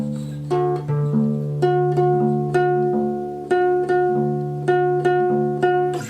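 Acoustic guitar strummed in a simple, steady pattern, sharp chord strokes repeating at a regular pace, clear and close with no voices.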